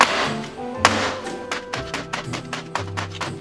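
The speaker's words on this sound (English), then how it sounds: "we're going to kind of just drop it, not from too high, but to knock out any excessive air bubbles" A gingerbread cheesecake pan is dropped from a low height onto a kitchen counter to knock out air bubbles, giving a series of close, dull thumps and taps in an uneven rhythm.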